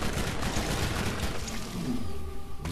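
Borderlands first-person shooter combat, rapid sustained gunfire with dense repeated shots and booming impacts, loud and close throughout, ending with a brief tonal whine and an abrupt cut.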